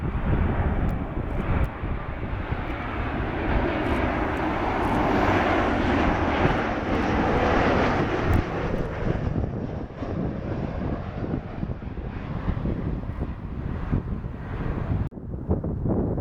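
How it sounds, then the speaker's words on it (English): An Aer Lingus Airbus A321LR jet airliner roars steadily nearby at an airport, a loud, sustained engine rumble with wind buffeting the microphone, easing slightly before a sudden drop near the end. "This is an A321 operated by Aer Lingus."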